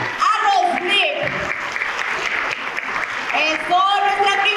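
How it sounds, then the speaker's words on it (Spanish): A conference audience applauds to welcome a speaker to the stage, with loud continuous clapping and cheering mixed with a voice over a sound system. "es momento de escuchar este primer aplauso con toda la energía para Sabrina Valdés"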